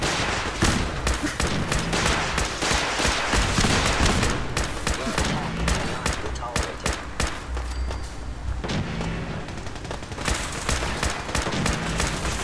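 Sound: enemies shooting at player in video game Fallout 4

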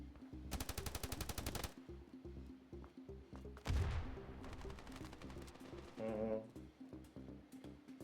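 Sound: gunfire in the video game Standoff 2

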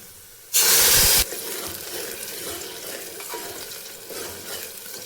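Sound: stirring and adding water to frying biryani mixture

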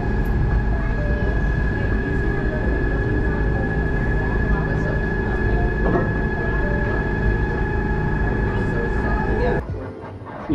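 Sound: tram train moving inside monument

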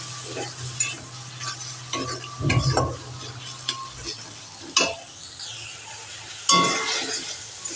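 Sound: spices being stirred and fried with sugar in a pan

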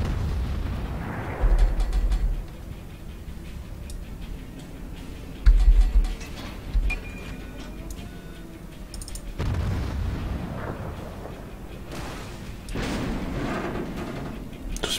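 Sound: warship gunfire and explosions in the video game World of Warships

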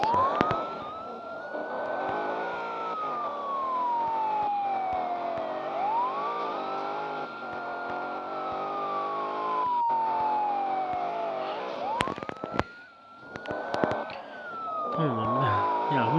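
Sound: police car siren chasing player, from video game Petrolhead

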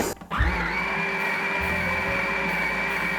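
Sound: mixer kneading yeast dough for Polish pączki

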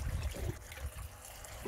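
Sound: stirring salt into water for a koi pond

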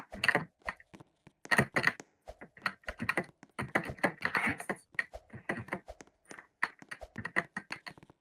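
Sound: computer keyboard typing

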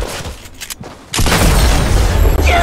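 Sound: gunfire in the video game Fortnite

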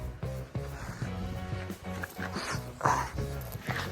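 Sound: dogs

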